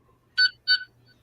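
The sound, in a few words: 14th Doctor sonic screwdriver toy beeping twice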